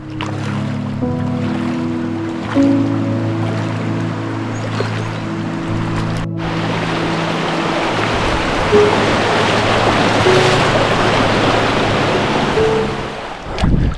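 River current in a canyon rushes and churns close by, a loud continuous broadband wash of moving water with swelling surges as a swimmer drifts along, no speech.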